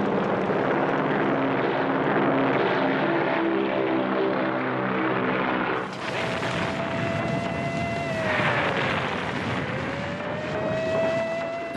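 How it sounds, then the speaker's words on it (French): American carrier aircraft heading to attack the Japanese fleet at Midway, a loud steady propeller engine drone filling the whole stretch, swelling and shifting in pitch as planes pass close by, with no voices. "Les porte-avions américains embusqués à proximité de Midway lâchent leurs avions à l'assaut de la flotte"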